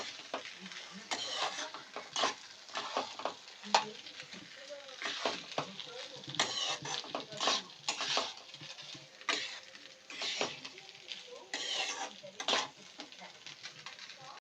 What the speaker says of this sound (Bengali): আর এর মধ্যে আমরা দিয়ে দেব টমেটো সস দিয়ে আমরা ভালো করে একবার মিশিয়ে নেব